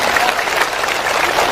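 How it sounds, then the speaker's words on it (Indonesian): An audience at an Islamic religious gathering in OKI, South Sumatra applauds a police officer with steady, dense clapping that fills the whole moment without any break. "Tepuk tangan dulu dong buat Pak Polisi."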